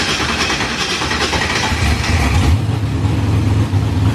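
A supercharged small-block Ford V8 in a Corvette roars loudly and continuously, with a deeper rise in pitch midway as the throttle is blipped, with no voices over it.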